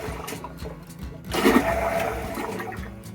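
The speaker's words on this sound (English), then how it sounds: "the pump just started making some real funky noises when you flush it" A boat toilet's macerator pump flushing, with a sudden loud rush of water and churning around the midpoint, settling into a steady whining drone that continues to the end.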